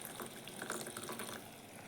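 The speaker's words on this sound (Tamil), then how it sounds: "இப்போ வந்து நம்ம கொஞ்சம் தண்ணி சேர்த்துக்கலாம்" Water is poured into a simmering pan of curry, giving a soft, continuous splashing and bubbling sound, quiet and steady throughout, with no talking.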